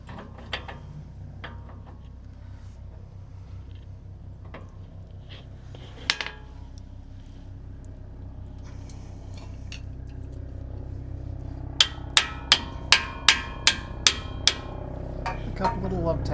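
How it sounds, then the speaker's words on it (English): A quiet mechanical background with scattered clinks, then a quick series of about eight sharp metallic hammer blows as a yoke is hammered onto the pinion shaft of a 1960 Chevrolet Bel Air. "Might have to hammer it on a little bit."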